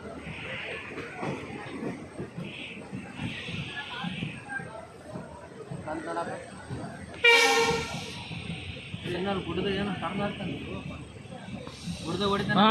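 A train runs along the scenic Dudhsagar railway route through green hills, its rumble and a sharp horn blast rising midway, under ongoing conversation from people nearby.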